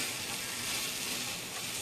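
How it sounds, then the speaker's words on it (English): Onions sizzle steadily in a pan for vegan paella, a constant bright hiss of frying at moderate volume with no talking. "And the onions are cooking."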